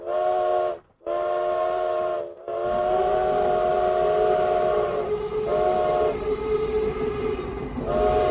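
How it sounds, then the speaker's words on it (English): The Bull Moose C-Series train on its last run sounds a loud, close whistle in repeated long blasts with short gaps, over a continuous rumble of rolling wheels and rail noise. "This is the Bull Moose C-Series last run, before she's retired for the new diesel models, and me with her."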